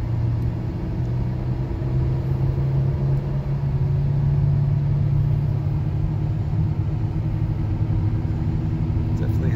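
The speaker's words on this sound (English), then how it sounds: "Has that wheel bearing noise to it." A Buick Enclave SUV drives along with a steady, loud road rumble and engine hum, a low droning tone from a worn wheel bearing running continuously underneath.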